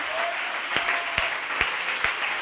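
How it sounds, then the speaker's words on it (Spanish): A church congregation claps together during a sermon, giving a continuous, even wash of applause with a few sharper individual claps standing out. "Un aplauso al evangelio de Cristo."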